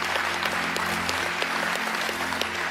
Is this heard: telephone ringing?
no